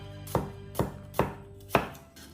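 A knife chops vegetables on a cutting board in four evenly spaced, crisp strokes, close and clear, with no voices.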